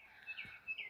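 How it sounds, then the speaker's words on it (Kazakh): Small birds singing outdoors on a clear green morning, a few brief high chirps and whistled notes, faint and somewhat distant in quiet open air. "Айналада құстар сайрап жатыр."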